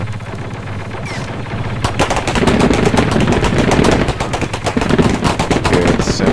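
Sustained rapid HMP gunfire in the sci-fi shooter Galactic Contention, loud dense bursts with overlapping distant shots during a chokepoint battle, starting after a quieter lead-in.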